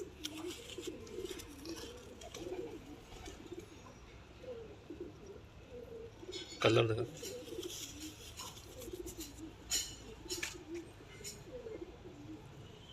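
Teddy pigeons with white eyes coo in a low, soft, steady murmur, close by, while someone talks over them and a brief knock sounds midway.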